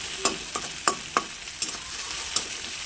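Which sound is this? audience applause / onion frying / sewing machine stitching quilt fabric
onion frying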